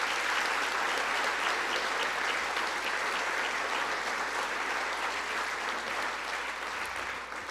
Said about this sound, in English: please give this group one more round of applause